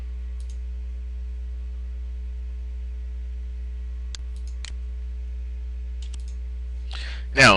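A computer mouse clicking to save a document: a few faint, sharp clicks spaced seconds apart over a steady low electrical hum, ending in a brief louder rustle.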